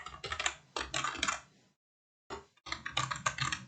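Fingers type numbers on a computer keyboard in quick bursts of close, crisp key clicks, with a short pause before the typing resumes.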